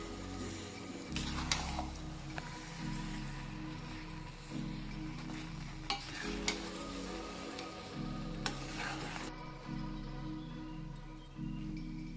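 Mawa with saffron stirred in a pan gives a soft, steady sizzle with a low hum beneath, plus rhythmic scrapes of the spoon and occasional light taps, close and quiet, with no talk.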